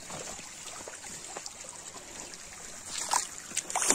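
A stream runs under a small bridge beside a farm path in the Uttarakhand hills, trickling and splashing softly and steadily, a little livelier near the end.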